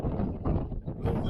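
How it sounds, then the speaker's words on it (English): Gusty wind buffets a tent campsite in Palo Duro Canyon, coming as low rumbling blasts against the microphone in uneven surges over a second or so, with no talking. "A little windy."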